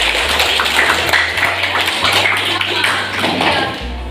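A class of students claps their hands together during a mathematics lesson, producing a dense, steady round of applause that runs for about four seconds and fades slightly near the end.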